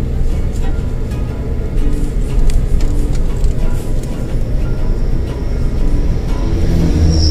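A Daihatsu All New Terios climbs a steep mountain road in second gear, its engine giving a steady, loud low rumble with road and wind noise that holds level throughout.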